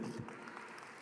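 Brief audience applause at a keynote talk, a soft, fairly distant wash of clapping that fades quickly.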